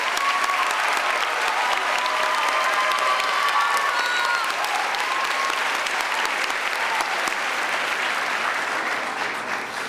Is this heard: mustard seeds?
no